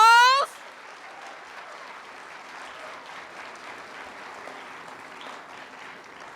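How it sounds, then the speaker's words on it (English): A brief loud shout opens the moment, then a crowd at a middle-high school ribbon-cutting ceremony applauds the principal with steady, moderate clapping that carries on evenly and somewhat distant. "Let's give him an Eagles round of applause."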